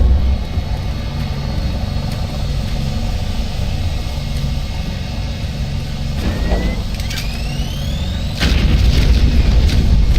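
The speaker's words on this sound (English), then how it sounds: "I like these grenades. They explode upon impact." Impact grenades explode in Doom 3: BFG Edition, with heavy booms over a constant rumbling din and a few sharp blasts partway through, loud and dense with no talking.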